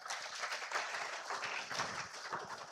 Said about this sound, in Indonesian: Ya, tepuk tangan dong ya.